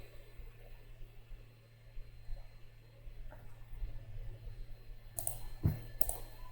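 Sparse computer mouse clicks sound close and quiet over a low background hum, with a couple of sharper clicks near the end.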